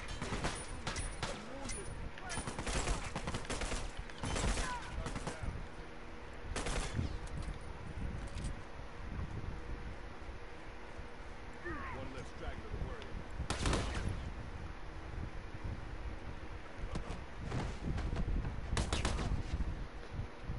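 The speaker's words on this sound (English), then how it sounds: "There's a dude in the middle shooting at me." A shooter video game plays rapid bursts of gunfire with sharp cracks throughout, some close and loud, others fainter, and a voice speaks at times.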